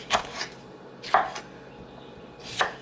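Three crisp knife cuts through a firm cucumber, evenly spaced about a second apart, close up with quiet pauses between.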